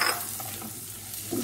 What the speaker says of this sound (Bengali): পেঁয়াজটা বাটারের সঙ্গে একটু হালকা ভাজা ভাজা করছি